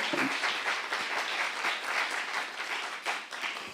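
A church congregation at a Saturday worship service breaks into sustained applause, a dense wash of many hands clapping that stays loud throughout, with a brief voice at the start.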